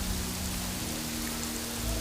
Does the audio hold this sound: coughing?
no